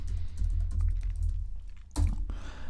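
Keys clatter on a computer keyboard in a quick, close burst of typing, over a low steady hum.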